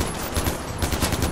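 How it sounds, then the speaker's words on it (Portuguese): Rapid automatic gunfire from the shooter video game Far Cry 4, a loud, close burst of evenly spaced shots rattling for the whole moment. "Até que eu tô atirando bem pra cacete, né?"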